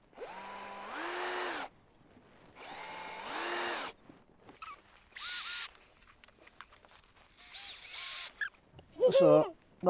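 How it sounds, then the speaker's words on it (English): A power drill drives screws into pallet boards in several whining bursts of a second or two, first two longer runs then shorter ones, close by. Brief voices are heard between bursts. "I'm just going to fasten these two together, and these are going to be my tracks."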